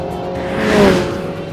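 A MINI Challenge 210 accelerates hard, its engine note rising steadily and loudly in one continuous pull as it flat shifts through the gears.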